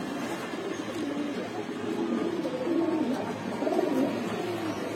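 A Nazra Kaldom pigeon coos softly nearby, a few low rolling coos in a quiet room with a faint steady hum underneath.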